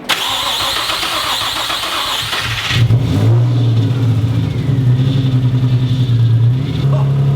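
A rebuilt junkyard Nissan 350Z engine cranks and catches after building oil pressure, then settles into a loud, rough, rumbling run through an exhaust with a hole, with a slight rev near the end, close by.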